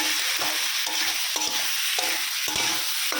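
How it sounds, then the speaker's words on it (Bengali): Vegetables with turmeric and salt fry in a pan for khichuri: a steady, close sizzle runs throughout, broken by regular scraping stirs about every half second. "আর ভাজা ভাজা হবে, খিচুড়িতে ঢেলে দেবো সবজিটা"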